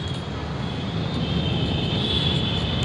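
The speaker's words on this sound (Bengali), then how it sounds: "ওই দেখ প্লেনটা উড়ে যাচ্ছে" A steady drone of an airplane engine fills the air, a continuous broadband roar with a faint high whine, fairly distant and unchanging.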